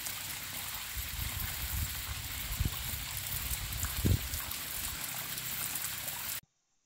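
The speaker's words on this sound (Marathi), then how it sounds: "इथे बारमाही नैसर्गिक मधुर व स्वच्छ पाण्याचे झरे निर्माण झाले आहेत" Natural perennial freshwater springs near a temple in Gadhinglaj, their flowing water making a steady, even trickling hiss that continues with no speech for several seconds before cutting off abruptly.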